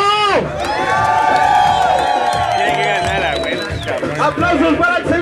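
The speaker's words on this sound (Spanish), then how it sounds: "¡Aplausos para el primer equipo!" Children cheer, shout and whistle for the first team at a group game, loud high-pitched voices and a long whoop filling the room, with scattered clapping beneath.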